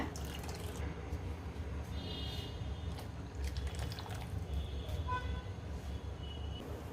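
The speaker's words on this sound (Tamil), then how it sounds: "கடலை மாவு கரைச்ச தண்ணியை சேர்த்துக்கோங்க." Gram flour mixed with water being poured into a pot of sambar on the stove, a steady liquid pouring and trickling sound over a constant low kitchen hum, fairly quiet and continuous.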